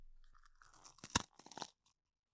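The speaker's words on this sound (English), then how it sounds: "Tell me what you think of this new grinder." A new herb grinder twists through its contents close up, giving quiet scratchy crunching that builds to a few sharp louder crunches before stopping.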